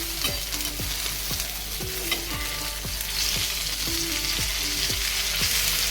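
Stuffed okra sizzles steadily in a pan while a spatula scrapes and turns the pieces in a regular rhythm of close, crisp strokes under a constant frying hiss.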